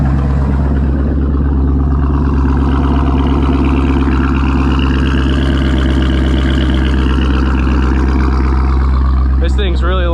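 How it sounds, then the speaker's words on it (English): Chevrolet C6 Corvette Z06 high-compression V8 heard from outside the car, a loud deep rumbling idle that swells briefly in the middle, constant and close, with a voice at the end. "This thing's really loud, guys. Really loud."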